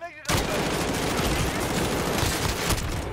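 Video game gunfire rattles in a dense, loud, sustained burst of rapid automatic shots, close and continuous after a brief quiet start.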